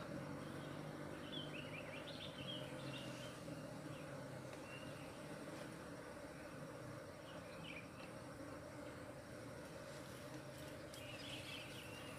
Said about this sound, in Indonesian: lebahnya sangat banyak